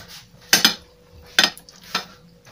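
Three separate clinks of a spoon scraping and tapping against a serving dish while spooning Chinese cabbage and tuna salad into a high mound, spaced apart, close and fairly loud in a quiet room.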